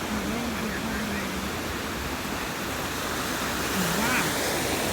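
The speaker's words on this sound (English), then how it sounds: "watch the ocean. The waves are coming." Ocean surf rolls onto the sand at Ocean Beach in San Diego, California, a steady broadband wash that stays loud and continuous throughout, with faint voices mixed in.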